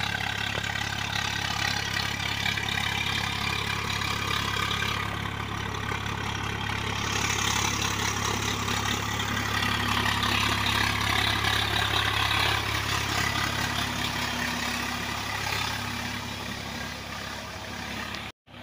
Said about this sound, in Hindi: सुराज कंपनी का ओल्ड मॉडल ट्रैक्टर, सुराज 834 FE 2004 मॉडल।